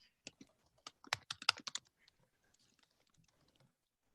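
Typing on a computer keyboard, a quick burst of close, crisp key clicks that thins to a few faint, scattered taps before stopping, with no voice.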